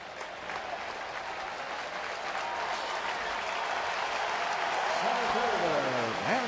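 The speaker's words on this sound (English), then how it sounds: "Standing ovation." A baseball crowd at a Pittsburgh home game against Washington gives Andrew McCutchen a standing ovation, steady loud applause and cheering sustained throughout from a large stadium audience.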